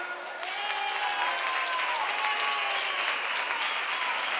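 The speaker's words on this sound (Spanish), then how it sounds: "quiero que reciban ustedes con un fuerte aplauso" An audience gives a music group a strong round of applause, dense steady clapping that swells after a brief start and holds evenly to the end with faint crowd voices.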